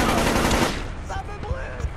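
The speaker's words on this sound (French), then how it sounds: "On me tire dessus." Rapid automatic gunfire in the stealth video game Splinter Cell Chaos Theory, a dense burst of shots that fades out after under a second, then game sounds continue quietly.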